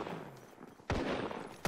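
Gunfire from Apex Legends, a burst of shots bursting in loud partway through, with a second hit at the very end over a busy game soundscape.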